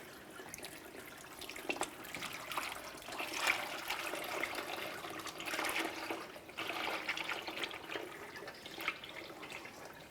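Transmission fluid from a 1994-2002 Dodge RAM 2500 transmission pan drains in a steady, trickling pour, a soft continuous liquid spatter with small surges, nearby and alone.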